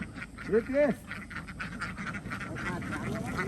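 Laying ducks give a couple of clear nasal quacks close by early on, then a softer call, over a steady outdoor background hum with a faint voice.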